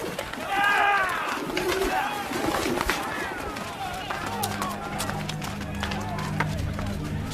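Pigeons cooing and fluttering in a dramatised Bible reading of a temple scene, heard close amid crowd bustle and voices, with soft low coos carrying on steadily under the scene.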